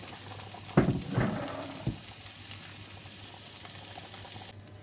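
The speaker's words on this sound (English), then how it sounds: "I've got my diced onion, and I'm going to put that into my fry light for a few minutes" Diced onions hit a hot pan in low-calorie cooking spray with a sharp sizzle and a couple of stirring scrapes, then a quiet steady frying hiss continues.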